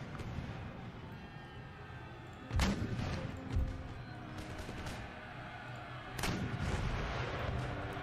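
Artillery fire striking mortar positions in Empire: Total War, a few heavy booming impacts a few seconds apart over a low battlefield rumble, fairly faint and distant.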